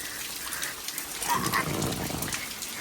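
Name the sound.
rain falling on an umbrella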